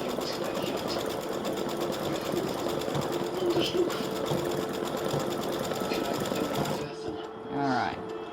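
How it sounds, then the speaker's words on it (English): An embroidery machine stitches the pom-pom on a Thanksgiving gnome hat design, a fast, even, close mechanical chatter for about seven seconds before stopping, then a voice speaks briefly. "Stitches the little ball at the end of the hat, your pom-pom"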